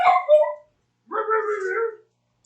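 A puppy at the door whines and yips in two short high, breathy bursts, close and clear, separated by a brief silence.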